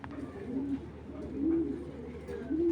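A racing pigeon from an original 2019 BRPFC club line coos close by, giving three low, rolling coos spaced about a second apart over faint background noise.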